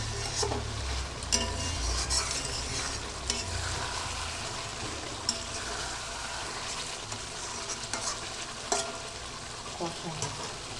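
Chicken slow-fries for kosha in a pot on a gas stove, with a steady sizzle under repeated scraping stirs and occasional metallic knocks of the spoon, close and continuous.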